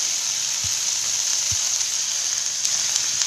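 Freshly ground turmeric root added to a hot pan sizzles steadily and brightly, with two soft low thumps of a utensil early on and no talking.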